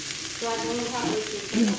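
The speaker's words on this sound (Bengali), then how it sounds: "আর এই এখানে আলু ভাজা হচ্ছে" Potatoes frying in a pan give a steady, close sizzle throughout, with a quiet voice speaking over it.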